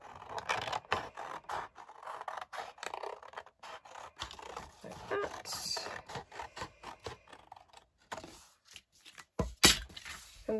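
Scissors cut a shape out of paper, repeated short snipping and scraping strokes with irregular rhythm, close and clear with no talking.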